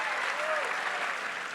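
Applause from a crowd, a dense steady patter of clapping that stays even for a moment, moderately loud.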